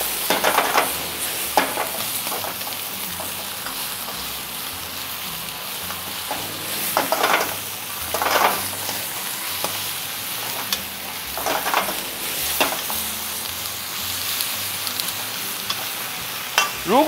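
Mustard greens stir-frying with chicken and garlic in a pan, a steady sizzle with intermittent louder bursts of stirring and scraping, close and continuous without voices.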